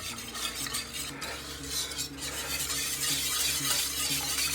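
A utensil stirs 70% cocoa chocolate melting in a pan on very low heat, with soft scraping and clinking against the pan over a faint sizzling hiss, close and continuous.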